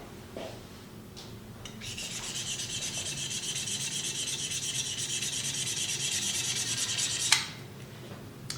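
A Stanley knife scraping across the ceramic surface of an infrared heater, giving a continuous harsh, gritty rasp that holds steady for several seconds and then stops with a sharp click.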